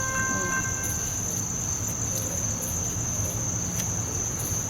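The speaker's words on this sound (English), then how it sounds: "we got a CSX freight train coming in Folkston, Georgia" A CSX freight train passes through Folkston, Georgia, heard as a steady rolling rumble of rail cars beneath a constant high chirping of crickets and insects.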